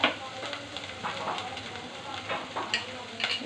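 Snakehead fish going into fried spices in a pan, giving a steady close sizzle of hot oil with occasional scrapes and stirs and brief louder crackles throughout.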